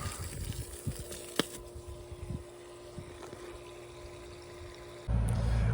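Water from a garden hose fed by a home well pump runs onto grass as a steady, low outdoor hiss with a few faint knocks, then swells louder near the end.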